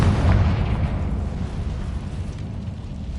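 Confringo blasting spell explosion in Hogwarts Legacy, a loud deep boom at the start with a low rumbling tail that slowly fades over a few seconds, no voices.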